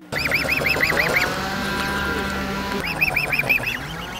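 Swans and ducks on a pond call in a busy chorus, repeated quacking and honking bursts in two clusters, fairly close, over a steady background hum.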